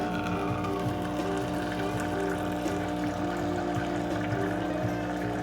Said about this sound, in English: So push and hold your hot water button.